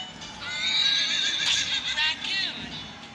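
Horse neighing in an animal video game, one long loud whinny with a wavering, descending pitch, followed by a few shorter whinnying bursts, close and clear.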